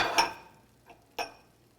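Canned mild green chilies go into a pot of turkey three-bean chili with a few clinks and scrapes of metal and cookware, one near clatter, a faint tap, then another clink.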